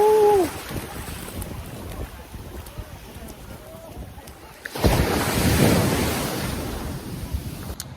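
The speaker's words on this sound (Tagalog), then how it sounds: "Yung alon naman dito" Ocean waves roll onto the beach at Casapsapan, Casiguran, Aurora, with wind buffeting the microphone. A voice is heard briefly at the start, then a wave surges in and washes loudly up the shore.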